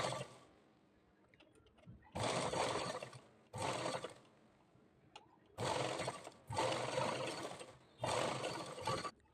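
Sewing machine stitching piping onto a blouse back neck, running in four or five steady bursts of a few seconds each with short quiet pauses between, close and clear with no talking.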